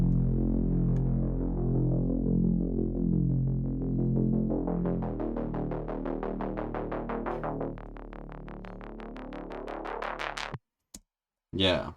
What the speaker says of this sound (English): start filtering up using a high pass filter, like an auto filter, that bass